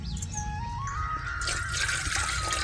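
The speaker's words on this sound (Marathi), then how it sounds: "पातेला ठेवते चुलीवर, अर्धा ग्लास पाणी टाकीते" Half a glass of water is poured into a pot on a stove, the tone rising as the vessel fills, then a brighter splashing rush near the end.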